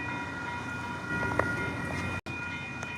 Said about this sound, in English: This would be the AMTRAK.